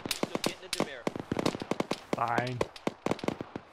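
Gunshots in the ArmA video game crack out as sharp, rapid reports, scattered and sometimes clustered, with people talking over and between them.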